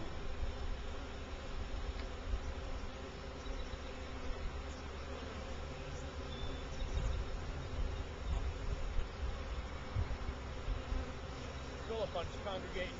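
A steady, dense buzz of many bees swarms around a hive, continuous and moderately loud, with quiet voices talking faintly in the background.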